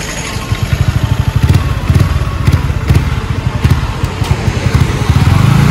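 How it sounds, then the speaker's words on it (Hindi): A Yamaha R15 V3 motorcycle engine runs close by with a rapid, rhythmic clattering chain rattle pulsing over the steady engine drone, loud throughout. "देख सकते हो चेन का कैसा आवाज करते"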